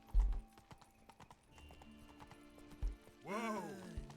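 Horse hooves clip-clopping in The Witcher 3, a run of clear nearby hoofbeats followed by a loud horse whinny, with faint game music underneath.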